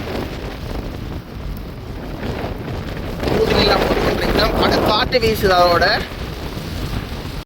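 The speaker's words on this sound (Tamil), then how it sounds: "காற்று பழமாக வீசி கொண்டிருக்குது" Strong wind sweeps past a flooded bridge in Jaffna, roaring steadily and buffeting the microphone throughout, loud and close, while someone speaks over it.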